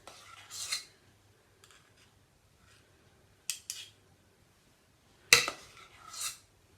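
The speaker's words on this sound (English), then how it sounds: "I'm just going to take 2 teaspoons and put it on the baking sheet, just like that." Two teaspoons scraping and clinking as cream puff dough is scooped onto a baking sheet, a few sparse metallic scrapes spread apart by quiet pauses, close and fairly soft.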